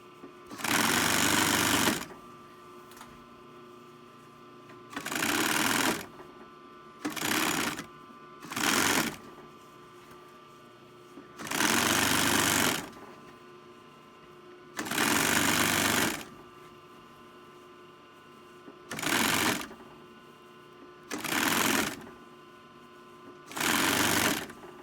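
A sewing machine stitches through thick six-point Hudson Bay wool blanket cloth for a shirt, running in repeated loud bursts of one to three seconds separated by short quiet pauses.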